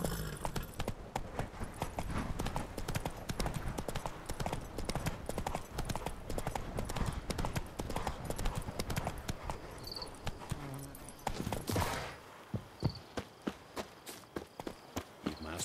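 Horse hooves clip-clop in a quick, steady rhythm in The Witcher 3, loud and close throughout, pausing briefly near the end before a few slower, scattered steps.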